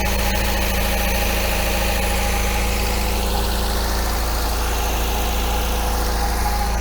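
An MGB engine idles steadily while warming up, a loud, continuous low rumble with an even mechanical hum and vibration, running alone without voices.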